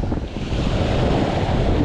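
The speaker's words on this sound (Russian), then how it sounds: "Ветерок такой боковой поддувает, если честно." Strong wind off the Black Sea buffets the microphone with a roaring, gusty rush, like blowing air at the seashore, continuous and loud.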